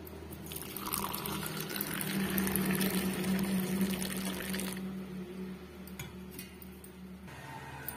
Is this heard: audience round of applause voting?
no